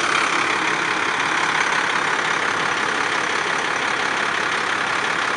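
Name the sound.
fire engine Cummins diesel engine idling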